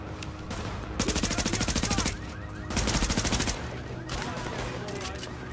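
Two long bursts of rapid automatic gunfire rattle out in The Division shooter game, the shots dense and loud, aimed at a player caught out in the open, with a steady game soundscape between the bursts.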